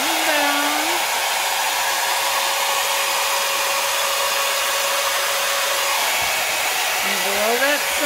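Hair dryer blowing cell activator off poured resin for a bloom trivet, a loud steady broadband whoosh running continuously, with brief pitch shifts near the start and end as the dryer moves.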